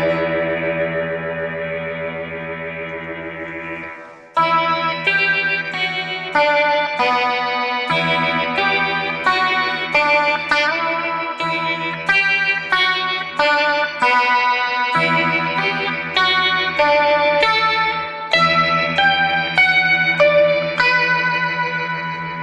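A guitar played through a sitar-style effect pedal, heavily processed with chorus and echo: a sustained droning note, then a steady run of bright, buzzing melodic notes, loud and alone.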